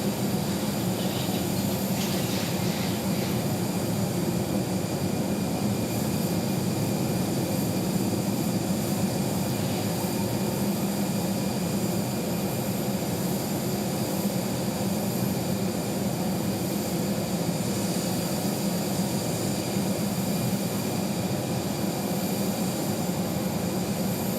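Aircraft at Phoenix Sky Harbor Airport, heard as a continuous loud engine roar and hum with steady broadband noise for the whole stretch, no voices over it.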